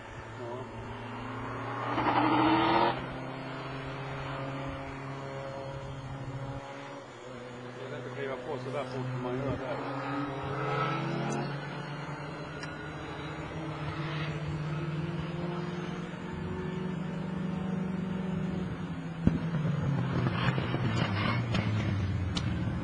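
A Formula 1 race car laps the Anderstorp circuit, its engine droning and sweeping up and down in pitch at a distance, heard under continuous commentary from people talking.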